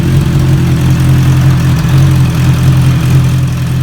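Close, loud Honda CB650R/CBR650R motorcycle idle through an aftermarket RooM Rider RS01 exhaust, a deep, throaty burble running steady and unbroken throughout with no voices.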